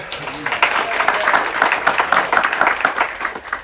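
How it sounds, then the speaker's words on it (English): A crowd at a crew celebration claps in a lively, sustained burst of applause, many hands close together, with voices mixed faintly in the background. "big applause for Inigo, please"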